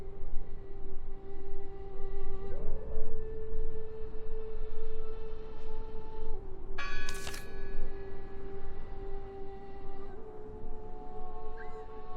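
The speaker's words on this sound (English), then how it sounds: "Listen! The bell!" Church bell in the video game Draugen, a sustained resonant tone hanging over a low rumbling ambience, with a brief bright clang struck partway through.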